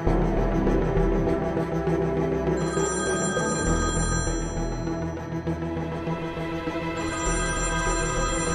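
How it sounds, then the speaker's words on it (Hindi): A telephone bell rings loudly and continuously, its trilling tone repeating over a steady background hum. "मॉम, अब अनंत के फोन पे क्यों फोन कर रहे हो?"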